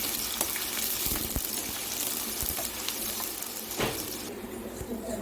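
Sliced onion and green chilli crackle in hot oil in a kadai, a loud, dense, watery sizzle that runs on without pause, with a few clicks and scrapes on top.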